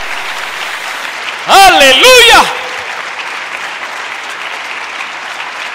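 A church congregation keeps up a steady wash of clapping through the whole stretch while one voice rings out a short sung exclamation over it partway through.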